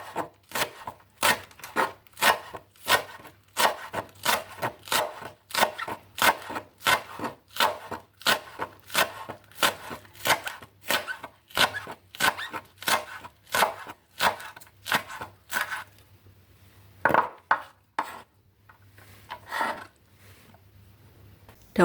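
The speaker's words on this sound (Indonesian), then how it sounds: "1 batang daun bawang dipotong-potong kecil." A stalk of spring onion chopped into small pieces with a knife on a cutting board, steady rapid knocks in an even rhythm, close and clear, slowing into a few scattered cuts near the end.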